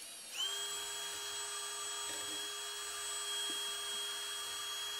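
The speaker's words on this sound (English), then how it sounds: "I am sharpening this bit so that we have a second electrode to go to" A metal bit being sharpened on a grinder to make a copper electrode, a steady high-pitched whine starting abruptly and holding continuously at close range with slight grinding roughness.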